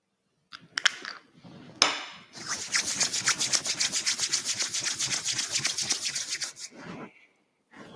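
Oiled hands rubbing together during a yoga session, a rapid, steady rhythmic swishing that builds after a few soft touches and runs for several seconds before stopping, close and fairly loud with no talking.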